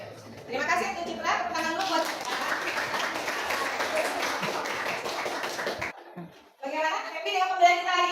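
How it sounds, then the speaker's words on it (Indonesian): A classroom of children claps for a classmate, a dense broadband patter running about five seconds, with kids' voices chattering over it before a brief pause and renewed talking. "Tepuk tangan dulu buat Citra."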